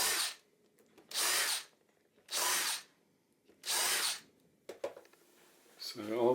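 A power drill bores a hole through wood from old drawer fronts, with four separate loud bursts of whirring and chewing, each lasting about half a second, separated by short pauses. Brief clatter and a voice follow at the end.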